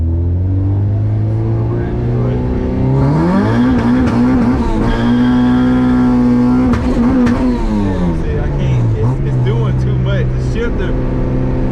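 A Honda Civic race car with an all-motor H2B engine launches and accelerates, its loud engine note climbing and holding high revs, then dropping at a shift and rising again, with a voice talking over it.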